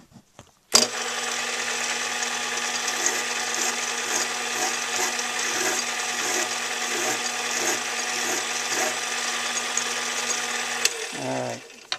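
A steady mechanical whirring grind with a faint repeating rhythm runs for about ten seconds, close and even, as a metal part is threaded with a tap, then stops abruptly.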